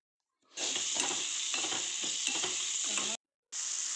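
Finely chopped tomato frying in oil for a ridge gourd palya, stirred in the pan, with a steady close sizzle and intermittent scraping strokes that stop briefly near the end.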